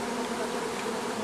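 At a beekeeping training apiary, a dense, steady hum of many honeybees flying around the hives fills the air, close and continuous, with no voices.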